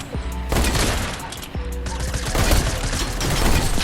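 Rapid gunfire from a video game shootout, with dense bursts of shots layered over one another throughout, loud and close with a constant busy rumble behind them.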